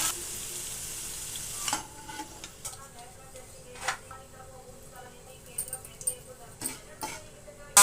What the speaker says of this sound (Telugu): ఇలా దోరగా ఎర్రగా వేయించుకోవాలి